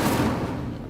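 Incendio fire spell in Hogwarts Legacy bursts out as a loud, close whooshing blast of flame that fades quickly over a second.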